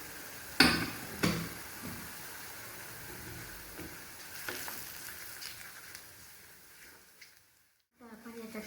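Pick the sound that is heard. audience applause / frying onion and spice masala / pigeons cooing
frying onion and spice masala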